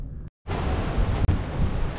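Strong ocean wind buffets the microphone in a broad, low rumbling roar, cut by a brief gap of silence near the start.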